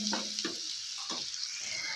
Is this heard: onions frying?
yes